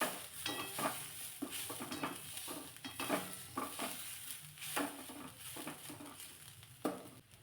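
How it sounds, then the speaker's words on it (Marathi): Vegetables sauté in a very little oil, with soft rhythmic stirring scrapes and taps of a utensil in the pan over a quiet, gentle sizzle. "अगदी कमीत कमी तेलाचा वापर करून भाज्या परतून घेते"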